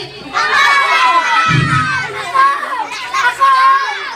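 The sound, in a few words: children clapping, shouting and cheering at a birthday party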